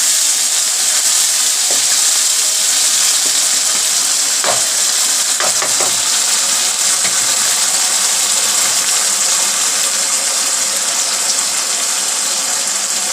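Potatoes and spinach fry in a pan with a loud, constant sizzle and hiss, broken by a few faint clinks of a utensil.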